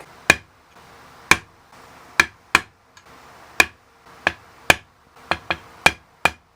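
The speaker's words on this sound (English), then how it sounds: "I'm going to get this as straight up and down as I can. I'll give it a little whack." A hammer strikes a metal punch into the tuner holes of a custom guitar headstock, about a dozen sharp, close, loud taps at uneven intervals with short decays and quiet gaps between.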